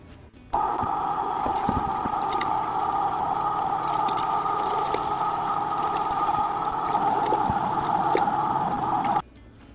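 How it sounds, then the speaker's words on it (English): A 1 horsepower commercial meat grinder grinding venison, a steady loud motor hum running for about nine seconds with occasional clicks and knocks as meat is fed, starting and stopping abruptly. "we're going to load the meat into the grinder here and start that process"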